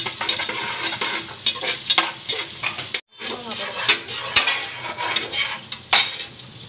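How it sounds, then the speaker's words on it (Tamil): Onions frying in oil until golden, a steady loud sizzle with frequent stirring scrapes and clinks from the pan, briefly cut off by a short silence midway. "வெங்காயத்தை நல்லா சோப்பு பண்ண ஆனியன் நல்லா பொன்னிறமாக வறுக்கணும்"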